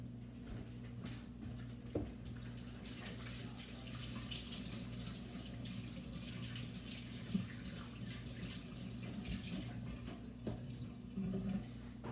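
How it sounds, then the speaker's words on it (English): Tap water runs steadily into a kitchen sink as hands are rinsed, a continuous close wash with a faint low hum beneath and a few small clunks. "I'm going to give my hands a rinse"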